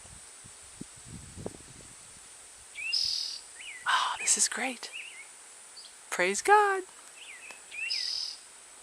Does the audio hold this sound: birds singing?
yes